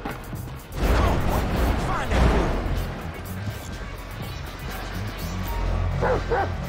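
A dog barks in GTA 5 during a mission with Chop, loud repeated barks and yips over game noise and a voice talking, close and busy.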